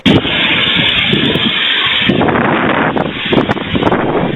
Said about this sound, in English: So this is when the wind was just gearing up.